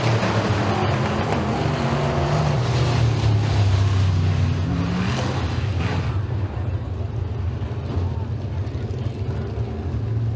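Pro Stock race cars roar around the Eriez Speedway dirt oval in a loud, continuous engine drone that sweeps and fades, with a track announcer talking over it.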